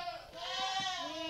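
Goats on a farm bleat in a long, wavering, nasal cry at close range, noisy and insistent as they wait to be fed.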